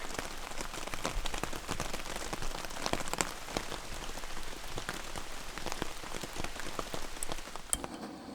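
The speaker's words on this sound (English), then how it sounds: "hopefully this rain stops so we can try fishing some more" Rain falls steadily at an island campsite in the Michigan wilderness, a dense continuous patter of drops striking nearby surfaces, with a few sharper louder taps and no voices.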